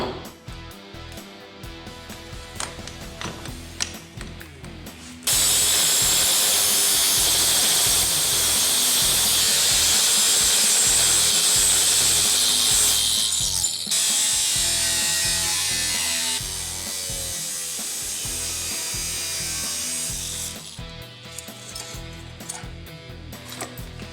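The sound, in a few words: angle grinder with 045 wheel cutting saw blade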